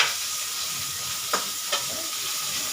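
Pointed gourd (potol) frying in oil, giving a constant close hiss with two short scrape-like accents partway through.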